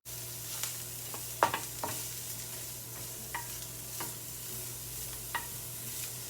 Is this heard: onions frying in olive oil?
yes